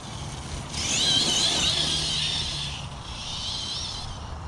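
ARRMA Talio RC car electric motor whining high at full throttle on grass, a loud rising whir that eases off, then returns more faintly at a distance.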